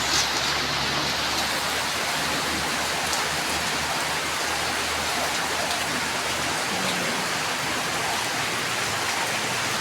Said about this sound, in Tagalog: Mas ulan